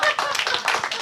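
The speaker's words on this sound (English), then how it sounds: "you gonna clap or you not gonna clap?" A church congregation at Unity Center of Norwalk claps briefly, a loose run of soft, uneven claps over about a second, fairly faint and close.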